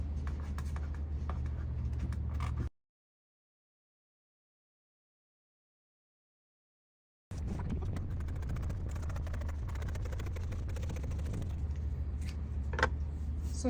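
Scissors cut through fabric along the side seam of a bubu dress, a steady scratchy snipping that stops for several seconds of silence and then resumes, close and fairly quiet.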